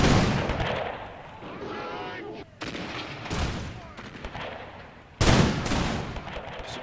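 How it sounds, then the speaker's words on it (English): Musket volleys crash out in Napoleon Total War, loud broad blasts with rolling echoes and crackle between them. A voice speaks during the firing. "Firing."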